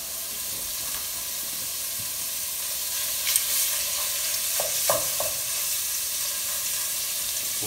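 Chorizo fries in a pan over the flame with a steady, fairly quiet sizzle. A spoon stirs it now and then, adding a few soft scraping clicks to the continuous hiss.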